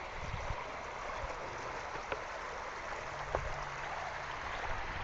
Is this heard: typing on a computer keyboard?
no